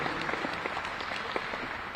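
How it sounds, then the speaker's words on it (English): Applause for three people at an Alabama A&M press conference, a steady dense patter of many hands clapping at moderate level throughout, with no talk over it. "Give all three of them a warm round of applause for all the work that they're doing"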